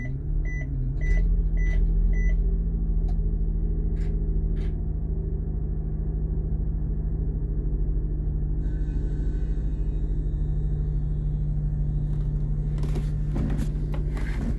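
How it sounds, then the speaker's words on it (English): Engine of a 2008 Blue Bird All American RE CNG school bus idling with a steady low hum and drone, dashboard beeps chiming in the first seconds, and a rising rattle near the end. "start up the bus."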